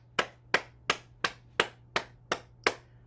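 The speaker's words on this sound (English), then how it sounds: "let's clap our hands and stimulate our heart and lungs" Eight sharp hand claps in a steady, even rhythm, close and loud, each one crisp with a quick decay, during a bouncing exercise routine, with a faint low hum underneath.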